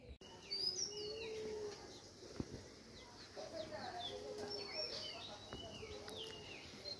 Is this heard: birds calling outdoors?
yes